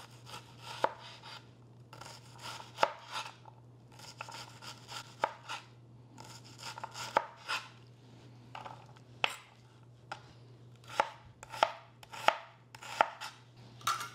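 A dull knife slicing cucumber for a salad on a board, giving irregular close taps and thuds in short bursts over a faint steady hum, no speech.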